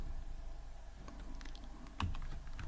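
Keys clack on a computer keyboard as code is typed, with a quiet, uneven patter of keystrokes and one sharper tap near the end, close and faint with no talking.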